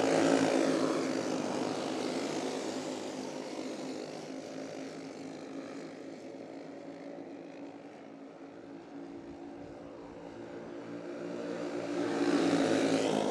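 Clone-engine karts in a medium-class race at Triple T Raceway make a steady, buzzing engine drone that stays close and loud throughout, dipping slightly midway before swelling again near the end.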